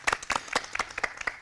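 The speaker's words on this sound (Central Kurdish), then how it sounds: "چەپڵەی بۆ لێم." A short run of crowd applause for a guest on a Kurdish music program, brisk separate hand claps at a steady rhythm, fairly close, with no talk.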